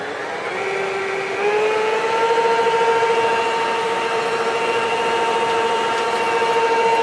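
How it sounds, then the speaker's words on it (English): A nearly 40-year-old electric mixer beating egg whites, a loud steady motor whine that rises in pitch as it speeds up and then holds a constant drone, close and continuous with no talking. "this is an old mixer we've had in the family for almost 40 years"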